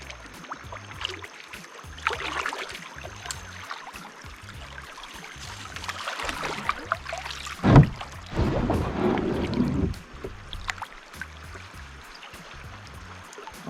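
A kayak moves along a small river, with soft paddle dips and gurgling water close by, a few louder splashes and knocks midway, then quieter trickling.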